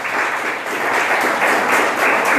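Church congregation applauding during a sermon, a loud, dense, continuous clapping from many people close by, with no talk over it.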